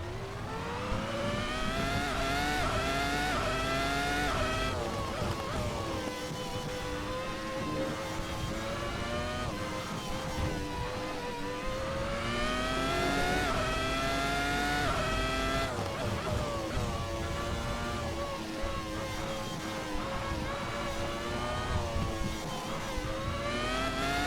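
A race car engine in a sim racing game screams loudly and continuously, its pitch climbing and dropping repeatedly as the car spins out.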